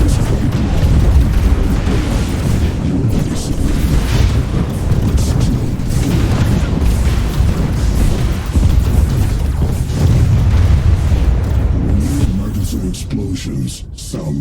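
Deep booming explosions and artillery-like bursts from the strategy game AI War 2 roll continuously in a dense, loud low-end rumble, with talk layered over the battle.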